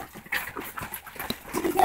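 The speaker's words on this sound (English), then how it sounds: "6 male pit bulls." Six male pit bulls at feeding time make scattered panting, shuffling and paw sounds close by, moderately loud and irregular, with no clear talking.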